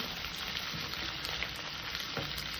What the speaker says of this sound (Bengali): পেঁয়াজটা আমি হালকা করে ভেজে নিয়েছি, দিয়ে দিলাম মটনগুলো।